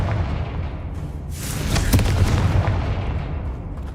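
A Confringo blast spell in the game Hogwarts Legacy, a booming explosive burst that swells at about one and a half seconds and rumbles on with low crackling debris before slowly fading.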